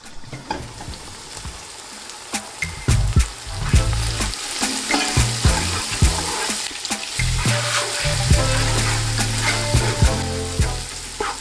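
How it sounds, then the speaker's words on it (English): Chopped onions fry in a pot for a one-pot chicken and rice dish, giving a loud steady sizzle with scraping stirs and spoon knocks throughout, and no voices. "Cover the onions while they're cooking."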